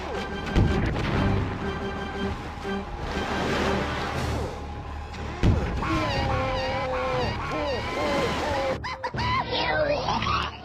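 In Conker's Bad Fur Day, a tank fires at a giant bear monster boss, with heavy booming shots and crashes among frantic game music, squeals and cartoonish screams.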